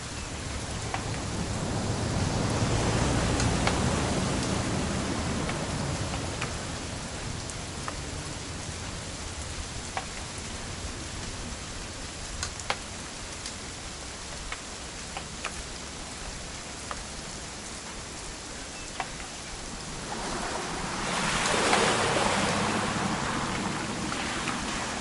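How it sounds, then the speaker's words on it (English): Rain in the video game What Remains of Edith Finch, a continuous hissing downpour that fills the whole stretch with scattered sharp drop ticks and a couple of swells in intensity. "It's gonna rain the whole weekend"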